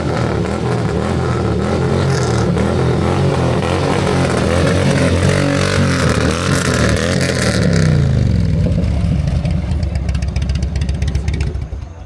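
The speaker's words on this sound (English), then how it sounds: "There's some big bike coming." Big motorcycles arrive in a steady stream at the Ubuntu Motorcycle Run 2025, their engines rumbling and revving loudly and continuously. One passes close by near the end as the engine noise falls away.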